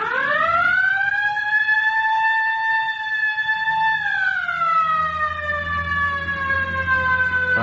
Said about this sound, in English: All right, hit the siren.